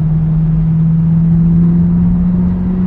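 A TVR Chimaera engine is pulled hard in second gear, giving a loud, steady, deep drone heard from inside the car with no break.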